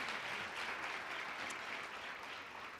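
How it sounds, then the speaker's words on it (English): Audience applause at a women and girls research summit keynote, a dense, steady clapping that stays fairly even in level across the short clip. "that deserves a round of applause"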